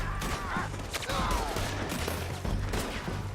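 Scattered gunfire in the Western video game Red Dead Redemption 2, repeated sharp shots over a rumbling background with faint game voices mixed in.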